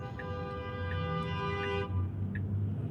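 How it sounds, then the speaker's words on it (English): A vehicle horn honks in steady traffic, a sustained tone lasting under two seconds that cuts off abruptly, followed by faint short toots in the distance. "Who's doing all that honking?"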